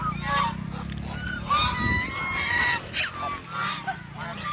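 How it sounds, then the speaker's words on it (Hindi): Several ducks fighting on a lake at a mini zoo give loud, harsh honking calls in close bursts, overlapping and jostling one another. "दोस्तों दो तीन डक्स हैं जो आपस में लड़ाई कर रही हैं"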